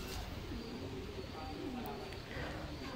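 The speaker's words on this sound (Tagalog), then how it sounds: "So ito naman yung makikita mga De Bruxelles dyan sa kanilang pigeon condo" De Bruxelles pigeons coo softly in a loft, their low, throaty calls faint and steady against constant background hum, with some talk mixed in.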